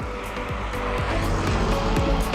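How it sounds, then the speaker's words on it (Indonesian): Fast cars and motorbikes on a road near Kahui in Palangka Raya, their engines droning loudly and continuously with repeated whooshing passes and rising engine pitches, close by and with no talk. "di sini mobilnya sangat kencang-kencang nih"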